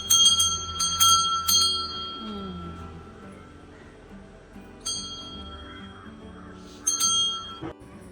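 A small bell is struck repeatedly in short bursts, bright and close, with quieter gaps between rings and a low murmur of voices in the background.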